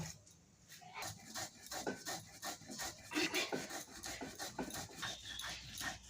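Black cumin seeds being ground into a paste on a stone, a close, rhythmic rasping scrape in repeated strokes, each rub a broad gritty swish in an even back-and-forth pattern.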